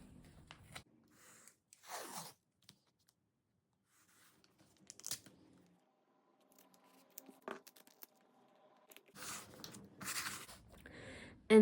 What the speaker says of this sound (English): So I'm gonna put this masking tape on